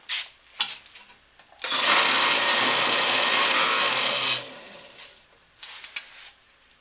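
An 80 grit sanding disc grinds against full tang knife handle scales in one loud, rough burst lasting a few seconds, bracketed by quieter scraping and handling noises before and after.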